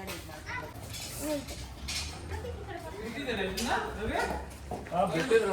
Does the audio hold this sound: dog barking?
yes